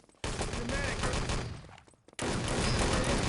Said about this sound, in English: Another airstrike on the spawn.